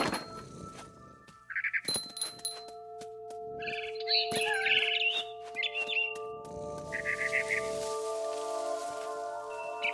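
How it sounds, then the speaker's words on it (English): A barn swallow chirps in the game What Remains of Edith Finch, with short bright tweets scattered among chiming tones and ambient game sound, close and fairly clear. "Then I heard chirping outside my window. It was a barn swallow going back to her nest."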